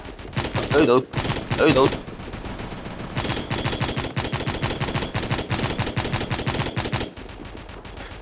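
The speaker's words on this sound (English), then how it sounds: "I have the machine gun." Machine gun fire in a video game rattles almost nonstop in fast, steady bursts at close range, with a brief pause early on and a short spoken exclamation over it.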